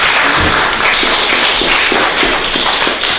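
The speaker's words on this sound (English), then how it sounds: "Big round of applause for Hal." Audience applause greeting Hal Myers as he steps up to present at a Jermyn Historical Society gathering: a steady, dense patter of clapping hands that fills the room for the full stretch, fairly close and loud, with no talking over it.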